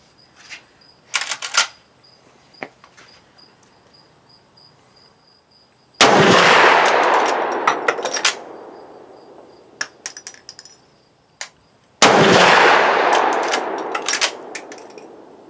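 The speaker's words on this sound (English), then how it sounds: "So, shooting standing off the shoulder, recoil on the 30-30 is virtually non-existent." A Marlin 336 lever-action rifle in .30-30 Winchester fired offhand outdoors: two sharp, loud shots several seconds apart, each with a long decaying echo, amid faint clicks and a constant high insect-like hiss.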